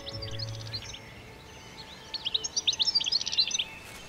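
Small birds chirping and trilling outdoors, a burst of quick bright tweets building in the latter half over a quiet low background, with no talk.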